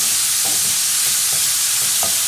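Garlic shrimp sizzling and frying in a pan over high heat, with a steady hiss and a few soft stirring scrapes, close and continuous with no talk.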